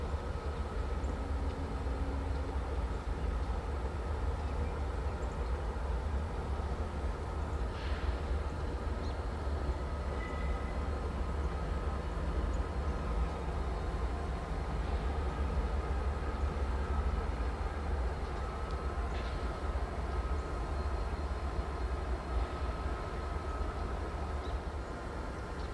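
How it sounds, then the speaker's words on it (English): Two GE B40-8 diesel locomotives rumble along a foggy rail yard at East Deerfield, a low, steady engine drone lasting throughout at a moderate distance, with faint metallic squeals here and there and no voices. "a pair of B40-8s are seen heading east towards the locomotive shops"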